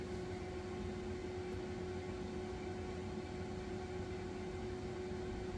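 An air fryer with two fans cooking fish, a steady, unbroken whirring drone with a fixed tonal hum, even and fairly quiet throughout.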